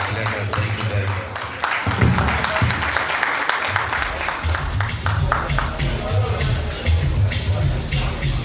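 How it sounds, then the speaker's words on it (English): A large audience applauds steadily and loudly at a PDP Governors Forum gala night in Zamfara. The dense clapping is mixed with crowd hubbub and holds its intensity for the full length. "Please, another round of applause to the PDP chairman."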